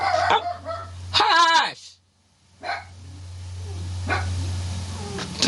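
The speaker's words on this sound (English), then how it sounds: "Y'all hear my dog?" A dog barks and yips in a burst of harmonic calls near the start, followed by a voice hushing it and a low steady hum underneath.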